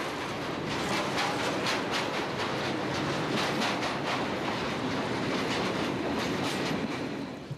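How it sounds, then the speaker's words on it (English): A Class 2200 diesel-electric locomotive arrives at Sas van Ghent hauling a rake of chemical tank wagons, a loud, steady rumble of rolling wheels with rhythmic clickety-clack over the rails, close by and without talk. "This Class 2200 diesel-electric is arriving at Sas van Ghent with a rake of chemical tanks"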